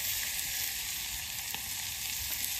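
Marinated chicken frying with onions in a pan, a steady loud sizzle with no break and a few soft stirring scrapes under it.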